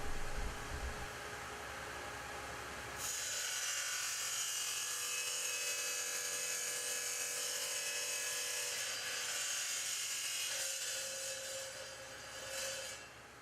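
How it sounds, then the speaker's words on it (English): A glass coldworking grinding machine used for shaping glass coasters starts up and then runs with a steady, loud, high whirring grind that holds evenly throughout and fades slightly near the end, with no talking. "Now it is time to turn on the machine."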